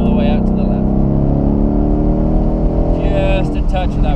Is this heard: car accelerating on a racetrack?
yes